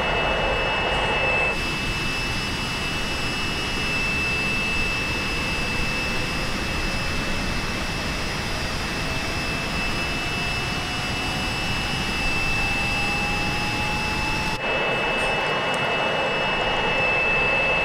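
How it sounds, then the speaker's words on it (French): Right jet engine of a Fouga Magister starting up in Microsoft Flight Simulator, a loud steady turbine roar and whine with a slowly rising tone, constant throughout with no speech. "Démarrage du moteur droite."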